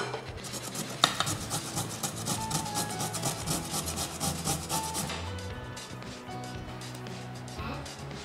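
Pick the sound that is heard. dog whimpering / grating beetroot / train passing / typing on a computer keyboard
grating beetroot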